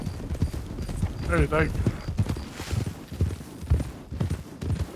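Horse hooves clip-clopping at a steady walk in a video game, heard under a voice speaking briefly over the footsteps.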